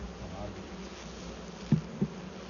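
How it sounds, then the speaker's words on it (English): Low, steady buzzing of a honeybee swarm being transferred into a new hive, humming continuously at a faint level, with a couple of soft thumps near the end. "There's a lot of bees in there."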